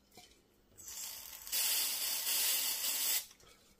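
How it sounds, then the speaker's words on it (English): Valvoline contact cleaner hisses from an aerosol can during servicing of a Sansui AU-Alpha 907MR amplifier: a short hiss, then a steady louder spray of about two seconds that cuts off abruptly, close up with no voices. "I use Valvoline contact cleaner."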